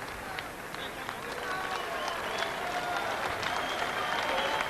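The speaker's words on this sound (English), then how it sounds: "Both fighters leave the ring to fine applause from this Marseille crowd." Crowd applause fills an arena in Marseille after a kickboxing bout, steady and sustained clapping throughout with a busy crowd murmur underneath.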